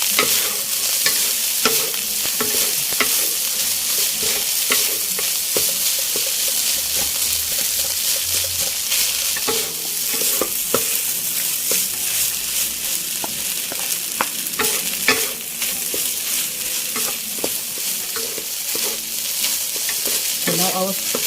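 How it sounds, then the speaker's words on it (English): Kampung fried rice stir-fried in a hot pan with vegetables and fried anchovies: steady loud sizzling overlaid with repeated scraping and clanking of a spatula stirring and tossing, continuous throughout. "I'm going to add in the vegetables and also the fried anchovies. So we stir fry further."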